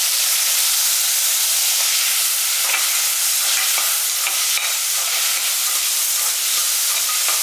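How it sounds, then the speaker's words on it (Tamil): Chopped onions and a large cut tomato sauté in a hot pan, giving a loud, continuous hissing sizzle with occasional faint stirring scrapes and no voices. "வெங்காயத்தெல்லாம் நல்லா வதக்கிடலாம்."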